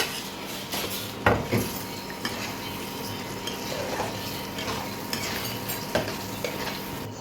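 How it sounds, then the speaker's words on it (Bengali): Paneer and green chillies are stirred in a pan for a home-style vegetarian Bengali dish: a steady, soft sizzle runs throughout, broken by a few sharp metallic clinks of a spoon against the pan. No one speaks. "এবার আমি পনিরগুলো দিয়ে একটু নেড়ে চেড়ে ঢেকে দেবো।"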